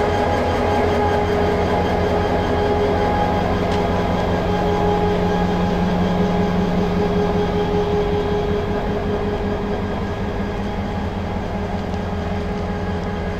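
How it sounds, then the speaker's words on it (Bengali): Chattogram University shuttle train hauled by locomotive 2713 MEL 15, running on the line: loud, steady mechanical rumble and drone with faint rhythmic rail clatter, continuous and close, no talking. "এই লোকোটি আজকে ব্যবহার হচ্ছে এই চট্টগ্রাম শাটল ট্রেনে"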